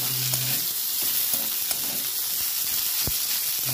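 Spice masala of chili, turmeric, cumin and coriander fries with grated boiled potato in a pan, making a steady close sizzle broken by scattered spatula taps and scrapes.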